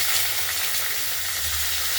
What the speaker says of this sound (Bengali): এগুলো আমরা এইভাবে ভেজে নেব